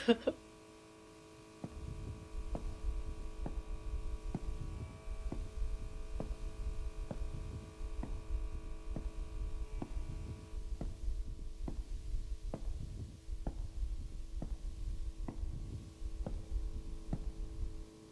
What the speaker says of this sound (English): the sort of incessant buzzing of the incandescents above